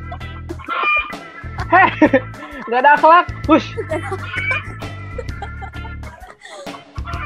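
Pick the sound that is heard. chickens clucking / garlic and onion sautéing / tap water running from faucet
chickens clucking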